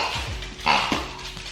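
A pug named Beans gives a short bark or yip at her birthday party, close by, with quiet household background sounds.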